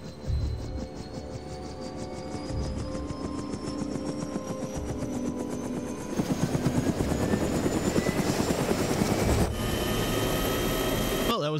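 Helicopter in the military game Arma 3, its rotor and turbine drone steady and loud throughout, with a rhythmic rotor chop growing stronger midway as the aircraft works to climb.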